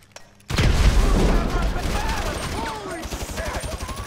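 A grenade blast booms suddenly in Grand Theft Auto 5, followed by sustained loud gunfire and fusillade crackling, with scattered shouting voices mixed into the chaotic combat noise.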